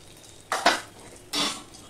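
Ground spices (coriander, cumin and chili) are stirred in a pan, giving two brief scraping, rattling strokes of a utensil over a faint background sizzle.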